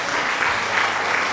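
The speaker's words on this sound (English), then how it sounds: "Thanks for the applause, Miles." Canned crowd applause sound effect played over a livestream talk show, a dense, even wash of clapping throughout a short burst with no voices.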